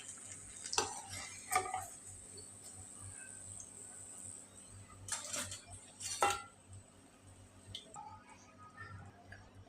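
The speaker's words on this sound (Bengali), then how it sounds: "এখন আবার একটু নেড়ে আমি এগুলো উঠিয়ে নেবো" Utensil stirring frying food in a pan gives several clattering scrapes, the loudest around the middle, over a steady low kitchen hum and faint crackle.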